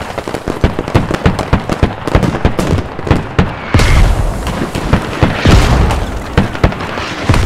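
Booming mortar explosions and surrounding gunfire in the military shooter Squad, a loud, busy barrage of sharp cracks and heavy thuds, some rumbling impacts swelling into a sustained roar midway.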